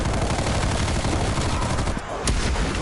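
A full-auto gun in Call of Duty zombies on the Die Machine map fires in a continuous, loud, dense stream of rapid shots, briefly dipping near the end before resuming.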